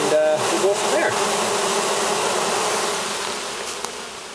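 Bees buzzing in a dense, steady hiss-like drone from a colony inside a retaining wall being cut out, close and continuous, with a brief knock and rustle at the start.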